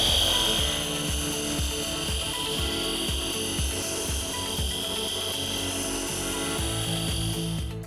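RUPES Bigfoot mini iBrid polisher wet sanding at low speed, a steady motor whine with a rhythmic, regularly pulsing rasp from the pad working the surface, close and continuous.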